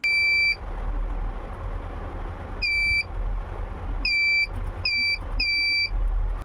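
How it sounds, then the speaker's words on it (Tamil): Harsh electronic buzzer bursts from a homemade transistor-based mini laser security alarm, five separate beeping blasts of uneven length over a low steady hum, loud and close with no talking. "அந்த லேசர் லைட்டை டச் பண்ணிட்டாலே போதும் அது வந்து அலாரம் அடிக்க ஆரம்பிச்சிடும்"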